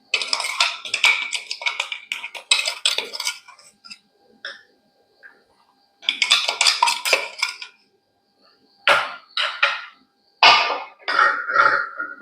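A metal spoon clinks and scrapes against a glass or jug while hibiscus juice is stirred with ginger, sugar and crushed cardamom, coming in close bursts of rapid tinkling separated by short pauses.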